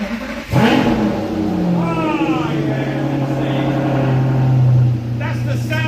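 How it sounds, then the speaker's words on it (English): A British V12 engine cranks and fires into life, then revs loudly and roars steadily close by, with a rising rev near the end and people's voices mixed in. "we all need to salute if a V12, British V12 fires into life"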